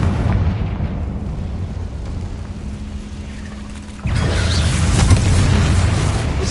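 A Confringo fire spell cast in the Hogwarts Legacy video game bursts out with a sudden loud blast about two-thirds through, leaving a dense roaring rumble over the earlier low steady game hum.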